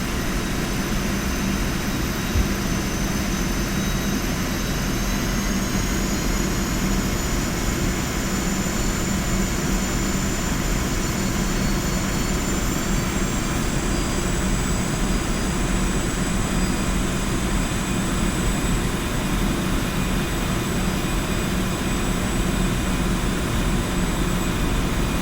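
Aircraft flying in Digital Combat Simulator, a steady unbroken engine and airflow hum with a faint high whine, constant in loudness throughout and with no talking.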